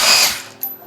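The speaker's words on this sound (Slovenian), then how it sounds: "Desno je vijačenje, levo je odvijačenje" Short whine of a power drill driving or backing out screws, a loud burst that winds down within half a second, followed by small clicks.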